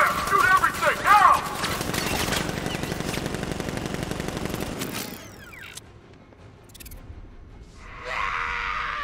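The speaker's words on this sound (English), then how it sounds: "Open fire! Shoot everything!" Rapid bursts of video-game gunfire from Batman: Arkham Knight, loud and dense for about five seconds with scattered screams and groans, then thinning to quieter background noise and a rising mechanical hum near the end.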